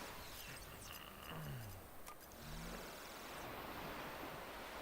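A water feature in the video game MMORPG Tycoon 2 gives off a steady broadband rush of flowing water, like surf, with a few soft tonal game blips over it and no talking.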